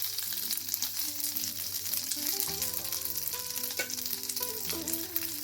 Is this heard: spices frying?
yes